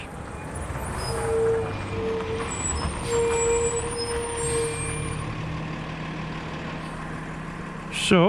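Garbage truck idling outdoors in cold winter weather, a steady low engine rumble with a brief hiss of air brakes near the end.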